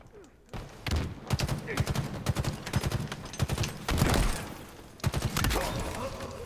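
Video game gunfire rattles in dense bursts and single shots alongside impacts, while players talk over the shooting.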